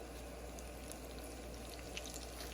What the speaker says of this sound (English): You can hear that bubbling real good